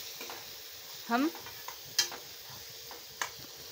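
Egg bhurji being stirred in a pan, Bengali style, with a few brief scraping strokes of a spatula and soft sizzling between them, close by; a short spoken word is heard near the start.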